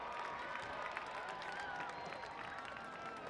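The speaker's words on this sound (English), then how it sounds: "Very high energy crowd tonight here." A crowd at a minor league baseball game between the Eugene Emeralds and the Tri-City Dust Devils, a distant, faint, steady roar of cheering and chatter with sporadic clapping.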